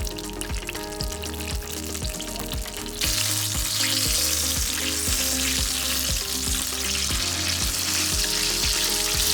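Pizza dough fries in a pan of hot oil with a steady, loud sizzle that swells and grows harsher after a few seconds, with light stirring or crackling underneath and no voices.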